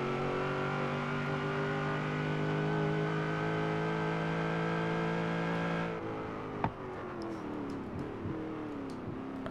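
A 1000HP SN95 Mustang drag build in Forza Horizon 3 accelerating hard from a rolling start, its engine note climbing steadily and loud before a gear change cuts it and revs build again.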